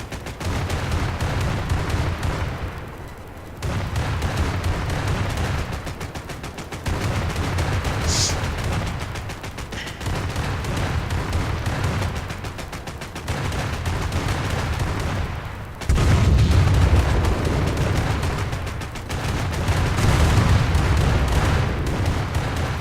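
Tank and opponent gunfire in the War Thunder video game, repeated bursts of loud booming shots and rattling fire in several clusters separated by short lulls, continuous and close over a rumbling background.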